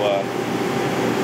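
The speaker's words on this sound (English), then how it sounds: "it's doing its purge sequence. Now it's dropping the inducer blower down to low." An AO Smith Legend 2000 boiler's inducer blower runs during its purge sequence, a steady close whooshing hum of moving air with a faint tonal whine, without noticeable change across the short span.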